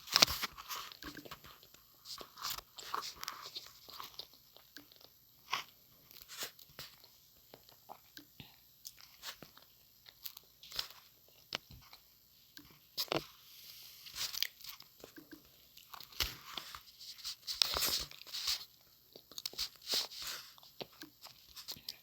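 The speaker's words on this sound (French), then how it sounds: "Je vais croquer et je vais me rapprocher ma bouche de mon micro." Close-mic crunching and biting of food, a string of sharp crisp bites and chewing pops right at the microphone, with faint whispery breath between them.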